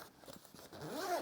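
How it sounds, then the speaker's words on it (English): A chunky, toothy YKK metal zipper on a Tom Bihn backpack is pulled in one short, close zipping stroke that rises slightly toward the end. "They are super chunky YKK zippers"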